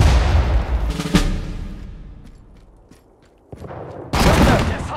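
Gunfire in a US Army video game campaign, with a heavy blast near the start and a loud burst of shots at the end, separated by a quieter stretch of scattered mechanical noise.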